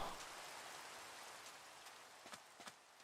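Rain falls in the Minecraft video game as a steady broadband hiss, moderately faint and alone, with a few soft droplet taps near the end.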